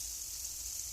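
Turmeric frying in hot oil, a steady close hiss and sizzle with no pauses over one second.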